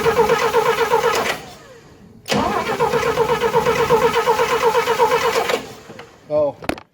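A car engine cranks and catches, running rough and uneven with ignition timing set way off, in two long bursts separated by a brief pause, then a short final sputter, with a voice nearby.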